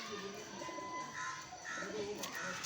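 Pigeons of a sturdy show breed, held and displayed by a handler, give low soft coos under a steady broad background hiss, with faint bird calls scattered through the short stretch.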